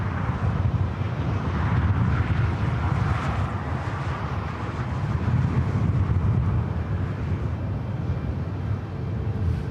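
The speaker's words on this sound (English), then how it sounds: "Polish Airlines Flight 21 coming up from Warsaw, 787-9 Dreamliner" A LOT Polish Airlines Boeing 787-9 Dreamliner arriving at LAX from Warsaw gives a loud, steady low roar that pulses slightly, mixed with buffeting wind noise and no voices.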